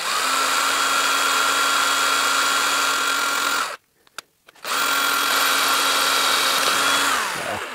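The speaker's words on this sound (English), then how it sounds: "just drill some holes like that so I can put some wire through and just support the tree" A power drill whirs loudly and steadily while drilling holes in a spruce bonsai's setup, cuts off briefly with a couple of clicks, then spins up again and runs until the end.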